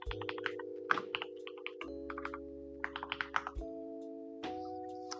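Rapid keystrokes on a computer keyboard while trying Rustlings coding exercises, clicking in quick uneven bursts over a steady low hum, close and fairly clear.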